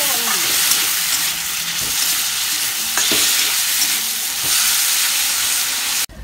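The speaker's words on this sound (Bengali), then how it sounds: "কলার খোসাগুলোকে লাল লাল করে ভেজে নেব" Green banana peels fry in a pan with salt and turmeric, a steady loud sizzle broken by repeated scraping stirs of a spatula.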